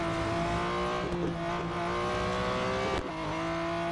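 Racing video game engine sound of a Porsche 911 GT1 road version accelerating through the gears, a loud, steady tonal drone with rising pitch and a brief gear-change dip near the end, without talk.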